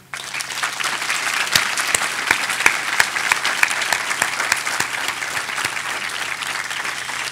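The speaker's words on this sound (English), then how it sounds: "Please join me in a round of applause for them." An audience applauds at a memorial dedication for a monument to the enslaved, steady dense clapping with sharp individual claps standing out, sustained loudly throughout with no talk.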